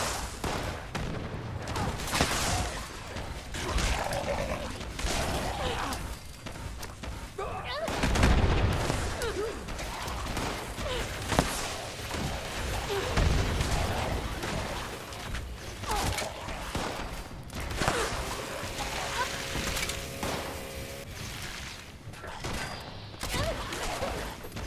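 Grenade blasts and bursts of rapid gunfire in the Fallout 76 video game pound away for a long stretch, with deep booms and dense crackling shots, loud and continuous.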